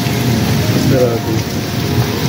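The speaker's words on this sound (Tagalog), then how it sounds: "Kita na ulan lakas," Heavy rain pours steadily with rumbling thunder underneath during a storm in Saudi Arabia, a dense continuous roar heard from indoors near a kitchen window, loud throughout with no speech.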